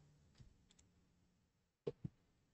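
A pair of quiet computer mouse clicks lands close together near the end while confirming an OK button in a network settings dialog, preceded by a few fainter clicks in a near-silent room.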